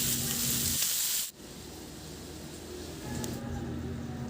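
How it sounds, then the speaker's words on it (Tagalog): Small cubes of tokwa (tofu) frying in a pan with a loud, steady sizzle and crackle, which briefly dips before settling into continuous frying. "Iprito lang natin yan hanggang sa maluto."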